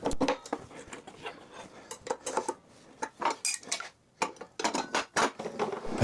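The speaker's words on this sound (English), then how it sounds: "Just going to quickly put the riving knife back on." A riving knife being fitted back onto a table saw, producing close, irregular metallic clinks, rattles and taps as the steel part is handled and seated, with short pauses between bursts.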